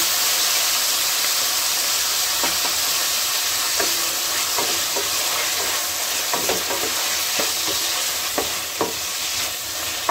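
Tomatoes and prawns frying in a pan give a steady, close sizzle with occasional stirring scrapes and clicks of a utensil against the pan, continuous throughout with no talking.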